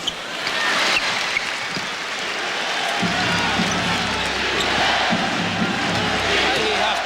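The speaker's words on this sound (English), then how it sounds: "Crowd chanting defense." Arena crowd at a 1994 NBA playoff game, Knicks versus Bulls at Madison Square Garden in New York, chanting defense as a loud rhythmic roar with a deeper chant rising midway, steady and sustained throughout.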